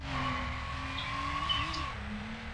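A car in the racing video game Need for Speed Underground skids and spins, a sustained tire squeal over steady engine drone that bends in pitch midway, loud and alone with no talk.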